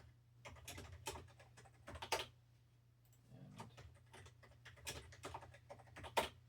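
Keys on a computer keyboard clatter in quick, uneven bursts of light clicks and taps, close and fairly quiet, with short pauses between runs of typing.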